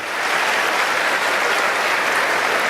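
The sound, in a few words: church congregation applause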